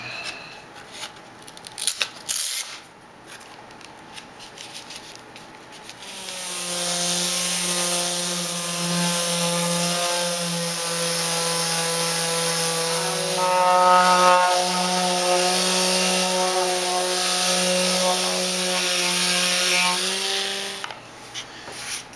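Wood for a small book display stand is sanded with 240 grit sandpaper, a steady close rasping rub lasting about fifteen seconds after a few brief knocks, with no talk.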